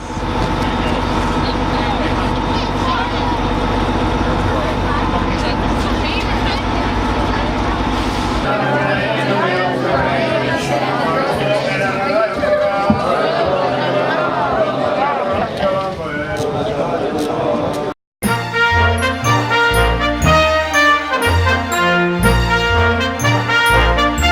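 Children chatter loudly inside a moving school bus on a 7th-grade trip to Boston, their voices mixed over a low engine rumble; near the end the scene cuts abruptly to music.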